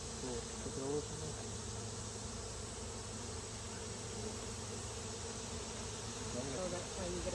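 Honey bees buzz in a dense, steady drone throughout a beehive inspection in Southern Illinois in August, with the hive open and frames being handled; the swarm hum stays loud and continuous with no clear talk over it.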